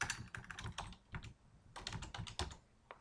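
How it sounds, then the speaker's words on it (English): Quick bursts of typing on a computer keyboard while entering a sheet name in a spreadsheet, crisp clustered key clicks with short pauses between runs, close and fairly quiet with no talk. "I can double click this and I will type in, for example, products"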